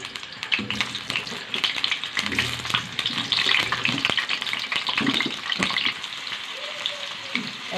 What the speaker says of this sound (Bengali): তেল গরম হয়ে গেছে, এবার আলু দিয়ে দেবো।